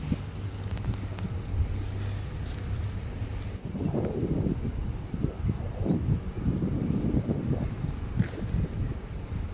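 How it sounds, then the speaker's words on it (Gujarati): Cool wind blowing at Sukhi dam, a low rumbling buffet of gusts that grows rougher and more uneven halfway through, fairly quiet overall with no voices. "મસ્ત ઠંડો ઠંડો પવન આવે છે એ બાજુથી."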